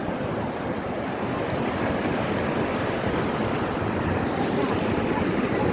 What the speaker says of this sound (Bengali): এখন ঢেউটা অনেক বেড়ে গেছে অনেক অনেক মানে সমুদ্র একদম পুরা উথাল পাথাল ঢেউ